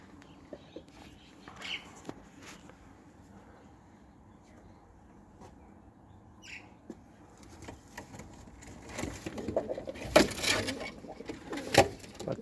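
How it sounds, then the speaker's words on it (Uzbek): Pigeons cooing faintly in the distance, a few soft calls scattered among low background noise, with louder rustling and knocking bursts toward the end. "Yurar ekan kaptar chiqib olib."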